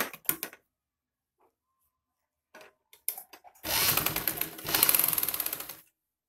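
A sewing machine stitching a high-neck Chinese collar, starting with a few short taps, then pausing, then running in a close, loud burst of rapid mechanical stitching before stopping.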